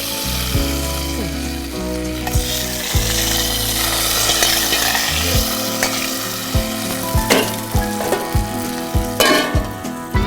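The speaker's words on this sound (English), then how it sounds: "So I'm adding the tadka now." Tempering hitting hot oil for lapshi, a loud close sizzle and crackle that rises sharply and keeps spitting, with a few clinks and scrapes of stirring toward the end and no voices.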